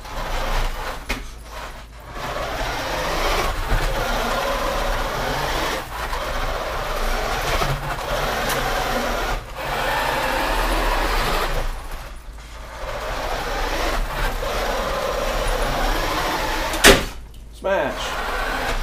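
A vintage Nikko RC offroader upgraded with a Traxxas LiPo battery spins high-gear donuts, a continuous whirring motor and rattling chassis clatter with brief dropouts and knocks, fairly loud and close, with speech present.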